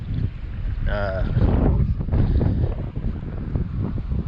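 Gusty wind buffeting the microphone beside the Middle Fork of the South Holston River, a loud low rumble throughout with a person talking over it.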